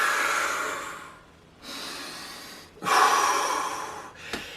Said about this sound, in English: just breathing in really deep like that